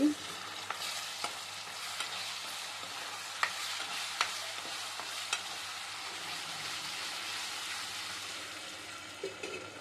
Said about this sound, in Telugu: ఇలా కలదిప్పుకోవాలి